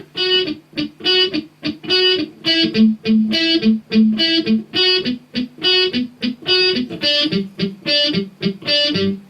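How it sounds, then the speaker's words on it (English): Electric guitar picked in a steady rhythmic pattern, one string palm-muted into short chugs alternating against another left ringing, loud and close. "the tricky part is just palm muting one string and not palm muting the other"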